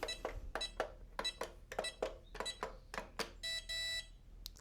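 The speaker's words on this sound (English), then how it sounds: "2 long beeps if setting successfully" Keypad of an Onnais Iron Pro gun safe as a code is entered, a series of short sharp close beeps at a steady pace, then a longer sustained tone at the end.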